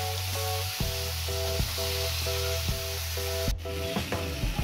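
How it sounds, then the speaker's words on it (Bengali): Marinated chicken dropped into a hot pan sizzles steadily while a spatula stirs it in repeated scraping strokes, with no one talking. "এরপর আমার ম্যারিনেট করা চিকেনটা এর মধ্যে দিয়ে দিচ্ছি, ভালো করে নেড়ে চেড়ে"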